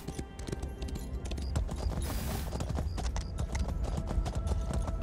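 Horse hooves clip-clop in a quick, steady rhythm in the video game Elder Scrolls Online, with close, continuous footfalls over a low background bed.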